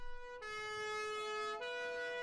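Fire engine siren sounding at a street protest, a loud sustained tonal wail that holds steady, briefly dips in pitch and resumes, carrying over distant crowd murmur.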